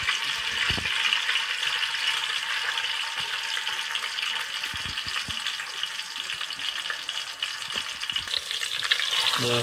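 Garlic frying in oil in a pan, a steady broadband sizzle that runs continuously and loud, with a few brief clicks of stirring scattered through it and no voices.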